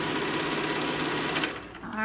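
A sewing machine stitching along the bottom border of a quilt made from a panel, running steadily with a fast, even mechanical whir close by, then slowing and stopping near the end.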